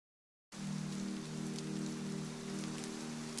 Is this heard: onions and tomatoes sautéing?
no